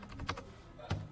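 Typing a command on a computer keyboard in an Ubuntu shell terminal: a few faint, soft key taps, quiet and close.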